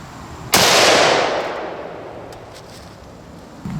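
A single loud Savage Axis .308 rifle shot cracks out sharply, its blast and echo decaying over a few seconds outdoors, with a faint noise rising near the end.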